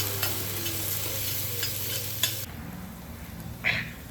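Green chillies fry in a pan with mustard seeds and cumin, giving a close, dense sizzle with stirring scrapes that quiets partway through, followed by a brief clatter.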